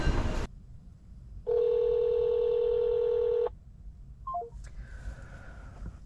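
A phone rings out while a delivery driver calls a customer: one long steady ringback tone lasting about two seconds, followed by a few short beeps, over a quiet background hum.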